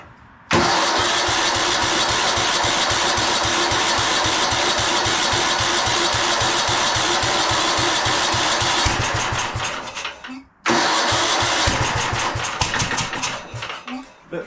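A 1997 Craftsman II 30-inch rear-engine riding mower, run on choke after a mouse nest is cleared out, fires up and runs loud with a rapid, steady chugging beat for about ten seconds, cuts out briefly, then catches and runs again.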